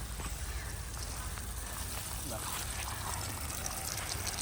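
Water gushes steadily from a loosened irrigation pipe joint in a ground-grown watermelon field, a continuous close rushing flow with faint voices underneath.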